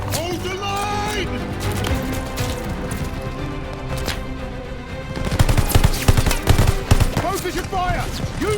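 Heavy machine-gun fire sounds throughout a Call of Duty Vanguard battle in June 1944, with dense rattling bursts and a louder, closer stretch in the second half. Shouted voices come and go over the shooting.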